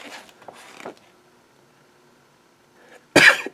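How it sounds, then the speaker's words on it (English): Someone nearby, sick, gives a single loud, explosive cough after a few faint rustles and near quiet. "There's the coughing from the sickness."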